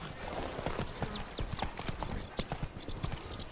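Galloping hooves of Roach, the horse in The Witcher 3: Blood and Wine, pounding in a steady rapid clip-clop rhythm, close and loud over a busy game ambience with a brief whinny-like cry.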